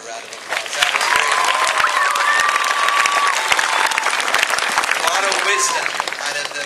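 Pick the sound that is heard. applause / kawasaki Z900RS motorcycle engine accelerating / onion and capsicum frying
applause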